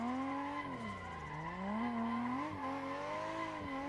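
A car drifting and spinning around during a drifting drill, with loud sustained tire squeal that wavers and bends in pitch as the car slides, close and continuous with no talking.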